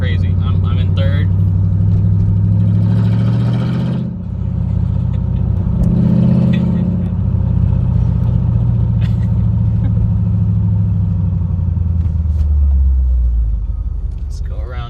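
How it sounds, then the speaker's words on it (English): A Mercedes E55 AMG with headers and a manual six-speed swap rumbles loudly from inside the car, its engine note rising and falling through revs while the driver talks over it. "It sounds like complete ass because I have the headers."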